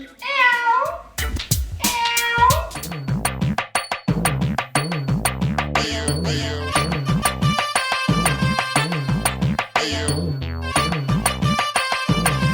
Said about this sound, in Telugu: పిల్లి తాగుతుంది.